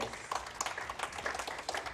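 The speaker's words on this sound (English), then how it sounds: "Gets a big applause from the crowd that have gathered here at the finals hall in Munich." Applause from a gathered crowd in the finals hall in Munich at a women's 10m air pistol SH1 final, a steady patter of clapping at moderate distance.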